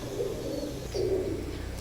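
Soft, low cooing of a traditional Khulna pigeon in two rounded phrases, close by, with a faint steady background hum.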